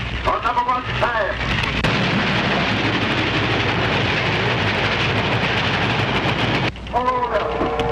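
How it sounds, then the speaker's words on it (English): A train roars past close by for several seconds, a loud dense rumble and clatter that drowns everything, with voices talking before and after it. "Bound train coming."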